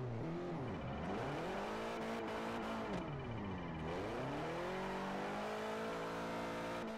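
A Toyota AE86 runs a drift lap, its engine note rising and falling steadily through revs as it slides continuously, loud and close throughout with no talk over it.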